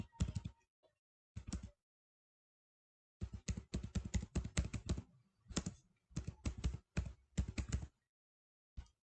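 Keys clatter on a computer keyboard in quick bursts of close, crisp taps, separated by short silent pauses.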